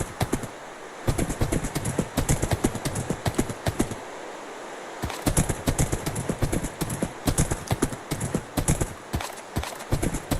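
Horse hooves clip-clop steadily in Minecraft, a loud, close run of rapid, evenly spaced beats that pauses briefly near the start and again mid-way before resuming at the same brisk pace.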